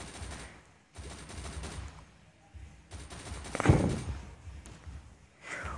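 Heavy-weapon gunfire from the zombie shooter game Unkilled, bursts of rapid shots with one loud blast near the middle, heard up close amid other game sounds.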